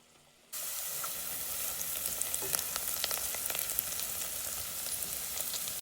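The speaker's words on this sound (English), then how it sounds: "our onions continue to cook down" Onions sizzle and cook down in a hot pan, a steady loud frying hiss that starts abruptly, with scattered crackles and pops throughout.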